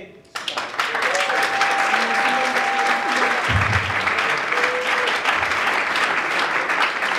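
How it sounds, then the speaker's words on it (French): Sustained applause from a crowd at a Nzonzing awards ceremony, dense and loud throughout, with a voice and some tonal sounds carrying over the clapping. "Est-ce qu'on peut applaudir bien fort pour notre icône?"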